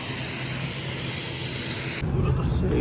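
Airplane engine roaring as heard from inside while travelling to Pokhara, a steady broad loud drone with a low hum, shifting abruptly in tone near the end, a voice talking over it.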